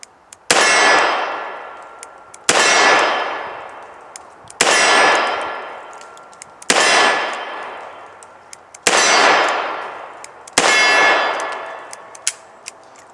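Six loud, sharp revolver shots ring out one at a time, spaced about two seconds apart, each with a metallic clang and fading echo.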